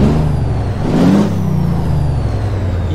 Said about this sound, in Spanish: Vamos a encender el motor.